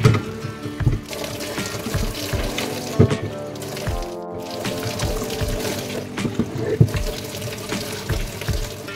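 Water pours and splashes inside freshly cut bamboo pieces being washed at home for bamboo chicken biryani, a continuous running-tap gush with irregular sloshes and knocks, close by and without talk.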